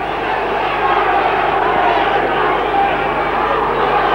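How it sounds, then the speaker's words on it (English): Crowd at a rugby league match, Leigh East against Bradford Northern, producing a steady, dense roar and murmur that holds at a constant loud level throughout, with a faint steady hum underneath. "The crowd again trying to raise East game."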